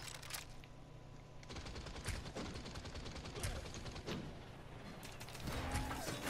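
Gunfire in the video game Realm Royale: a dense stretch of rapid, overlapping shots and clattering mechanical weapon noise, fairly loud and continuous for several seconds, with no talk over it.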